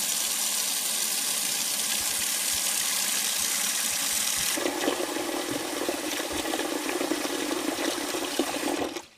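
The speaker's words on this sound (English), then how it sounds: "Let's run some water and fill it up." Tap water runs hard into a sink with the stopper down, a steady splashing rush whose tone shifts partway through as the basin fills, then stops abruptly at the end.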